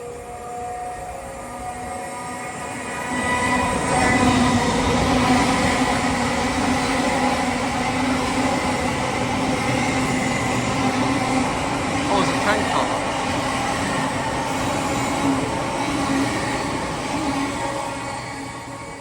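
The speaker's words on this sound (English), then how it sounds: "This train is not stopping here." An LNER InterCity 225 bound for London King's Cross rushes through a station without stopping, a broad steady roar swelling after a few seconds and holding close and loud.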